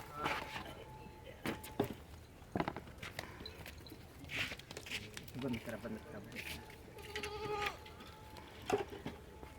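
Goats on a small low-budget goat farm bleat in repeated calls, several loud and close, with people talking among them.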